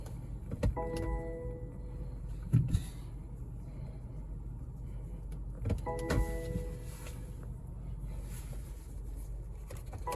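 A 2020 BMW X3 hood is shut with a single firm thud, framed by brief whirring motor sounds and faint car noise nearby.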